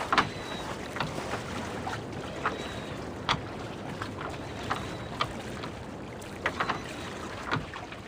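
A boat glides across water in Reverse: 1999 on its way to McMurdo Port, with a continuous wash of water and wind broken by soft periodic splashes and slaps against the hull.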